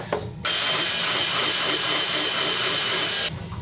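A power drill fitted with a bit from an STS drill kit bores into material while installing an Anchormatic anchor, a loud steady grinding whir of about three seconds that starts and stops abruptly.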